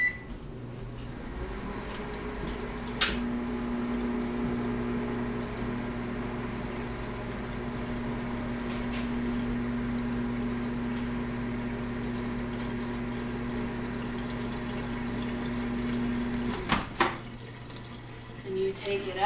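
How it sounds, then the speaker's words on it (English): A microwave oven hums steadily for about fourteen seconds while reheating melt and pour soap, a low even drone bracketed by door clicks and beeps near the start and end. "stick it back in your microwave for about 20 to 15 seconds"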